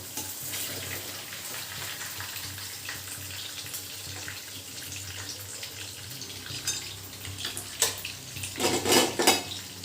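Soya chunks fry in oil over a high flame with a continuous bubbling sizzle, joined toward the end by louder clinks and scrapes of a utensil against the pan, close by with no talking.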